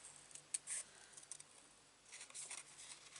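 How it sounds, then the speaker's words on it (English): Scissors fussy cutting around a stamped paper image for a handmade card, a quiet run of small, irregular snips and paper rustles with short pauses between them, close by and without speech. "I used to hate fussy cutting, but it's not bothering me in the slightest anymore."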